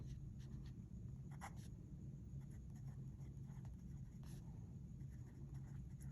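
A Sailor Shikiori fountain pen writes on paper, producing faint, scratchy nib strokes in short bursts over a low background hum, quiet and close.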